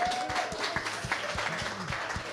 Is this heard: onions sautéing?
no